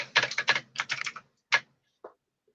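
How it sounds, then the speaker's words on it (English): Close, crisp computer keyboard typing rattles out in quick bursts of keystrokes, then trails off into a couple of isolated taps before silence. "when I heard typing"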